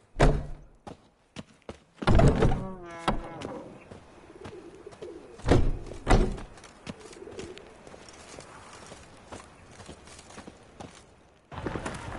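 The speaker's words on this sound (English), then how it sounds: "The bonny birds that prance by here." Birds coo and call in Witcher 3: Wild Hunt, pigeon-like cooing in short phrases mixed with thumps and scattered clicks, moderately close in a quiet outdoor scene.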